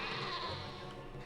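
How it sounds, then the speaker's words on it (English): Sheep bleating in the Caesar III city-building game, a short wavering animal cry lasting about a second over a steady background of game ambience. "Ignore the dying sheep,"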